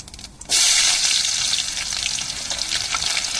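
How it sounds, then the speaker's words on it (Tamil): Small onions added to hot oil with fennel seeds for tempering a goat intestine curry, bursting into a loud, close, continuous sizzle that starts abruptly and holds steady. "அதுக்கப்புறம் நம்ம கட் பண்ணி வச்சுருக்க சின்ன வெங்காயத்தை சேர்த்துக்கிடுவோம்"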